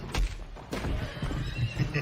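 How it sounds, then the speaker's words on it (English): A horse in the Mortal Kombat video game whinnies loudly up close, followed by hoof clip-clops and rumbling movement. "Then John Wick jumps out on his horse"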